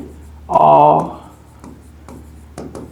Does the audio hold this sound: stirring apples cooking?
no